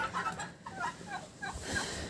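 A hen clucks softly in a village yard, with faint, scattered low calls close by in otherwise quiet surroundings.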